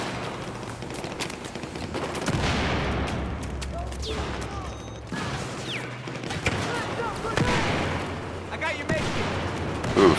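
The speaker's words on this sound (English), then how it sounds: "Flashbangs, very good." In an infantry video game, a burst of flashbangs and gunfire goes off in a fast series of blasts and cracks, with players talking over the battle noise.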